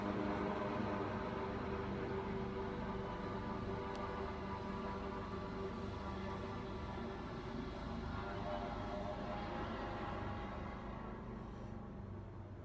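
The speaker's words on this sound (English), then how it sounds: "Here comes the Chopper." A helicopter flies overhead, heard indoors as a loud, steady rotor and engine rumble that fills the whole stretch and eases off slightly toward the end.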